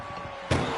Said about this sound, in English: Surviving the shutting door and escaping the ambulance